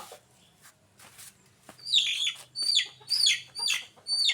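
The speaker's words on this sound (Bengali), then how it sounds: "এই যে মুরগি আনছি" A chicken clucks close by, first with quiet scattered sounds and then a run of five or six loud, sharp clucks in quick succession.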